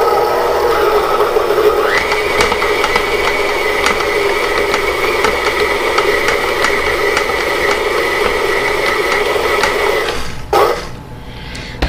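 An electric mixer whirs through thick chocolate batter in a bowl, a loud steady motorized hum with rattling beater clatter for about ten seconds before cutting off abruptly, no talk.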